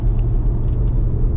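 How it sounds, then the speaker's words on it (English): Nissan Patrol Y62 driving at cruise, its tyre noise and exhaust drone forming a steady, continuous low rumble throughout, with no talk over it. "As you can hear, I've still got a little bit of tyre noise, but that's realistically about all I've got"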